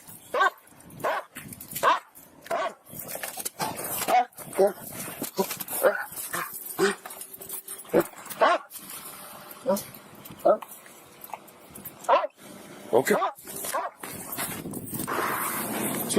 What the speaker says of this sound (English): 보안관은 합리적 의심을 근거로 K9 마약 탐지견을 호출합니다.